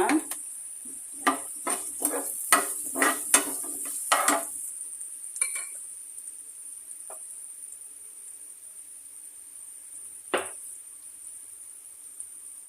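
Frying onions with sugar, turmeric and salt get stirred in a pan, producing a quick run of close metallic scrapes and taps, then sparse knocks over a faint, steady high hiss.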